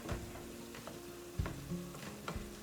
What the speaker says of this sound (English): the brown sugar is going to start to caramelize in our meat